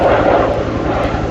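Fouga Magister jet making a low pass over an airshow, a loud steady engine roar with rumbling, filling the short stretch without any talk.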